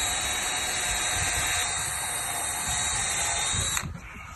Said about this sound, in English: we're going to drill a hole in the screw